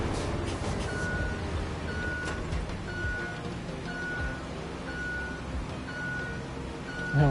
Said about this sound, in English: there was a random amount of beeping there